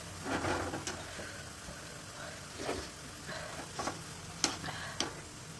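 Sabudana vada fry in hot oil with soft bubbling and several sharp clinks of a utensil against the pan, close by and intermittent, with no one talking.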